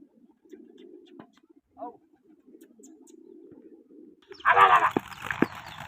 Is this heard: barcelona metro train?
no